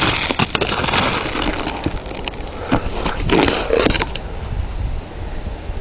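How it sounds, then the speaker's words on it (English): Ice being chipped away by hand during a freezing-rain winter storm, a dense run of scraping, crunching and cracking strikes over steady outdoor noise, close and continuous with no talking. "I'm chipping away the ice."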